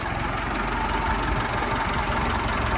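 A YUMZ tractor fitted with an SMD diesel engine idles on its first start after modification, a steady low throbbing rumble with a knocking texture, loud and close with no voices.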